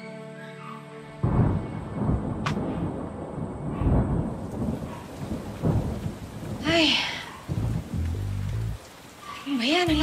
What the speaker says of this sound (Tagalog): Ano ba yan? Ang lakas ng ulan.